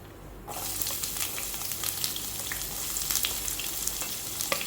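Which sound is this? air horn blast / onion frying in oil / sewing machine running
onion frying in oil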